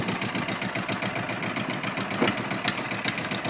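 A small fishing boat's engine runs steadily on a night outing after matambaka fish, a dense mechanical drone with a quick knocking rhythm that stays fairly loud and constant throughout, with no talk over it.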